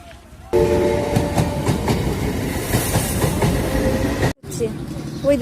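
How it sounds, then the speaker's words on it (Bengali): A train rolls into a station platform, a loud steady rumble with faint wheel clatter lasting several seconds, then a brief cut before the noise picks up again. "এখন 2 নম্বরের ট্রেন ঢুকছে"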